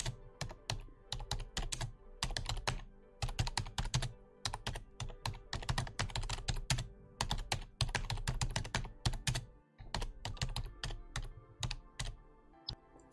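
Rapid typing on a computer keyboard in an office while a report is being filled out, with quick irregular bursts of key clicks close by and steady for the whole stretch, no talking over it.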